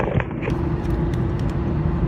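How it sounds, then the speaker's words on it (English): Inside a small, cheap car while driving, a constant loud engine and road drone fills the cabin, with occasional light rattles and creaks over it. "my car is small, cheap, and makes a lot of noise"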